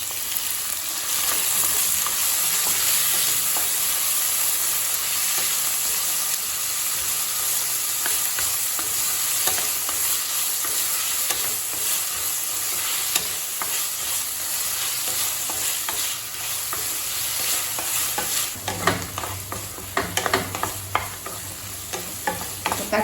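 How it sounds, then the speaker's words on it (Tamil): Tomatoes and onions with dried chillies frying and being stirred in a pan for tomato coriander chutney, a steady close sizzle with scraping stirs throughout, no voices. "தக்காளி சேர்த்துட்டு நல்லா வதக்கியாச்சுங்க"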